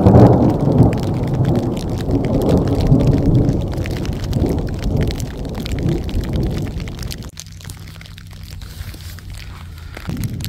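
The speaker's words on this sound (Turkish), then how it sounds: "Şu an dolu yağmaya başladı." Hail pelts a surface at a snowy campsite in a dense, steady rattle, loud at first, then thinning out to a lighter patter near the end.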